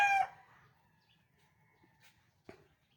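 A large, agitated rooster gives a single loud crow at the start, trailing off, followed by a sharp short call a couple of seconds later, close by and with no talk.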